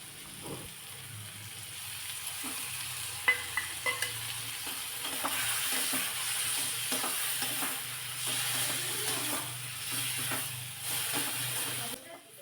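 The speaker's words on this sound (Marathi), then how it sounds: "ते वाटण यामध्ये घालायचे आणि याचा कच्चा स्मेल जाईपर्यंत ते सुद्धा चांगलं परतून घ्यायचे" Coconut masala paste sizzling and being stirred with tomatoes in a pan, a steady frying hiss with occasional utensil scrapes throughout, moderately close.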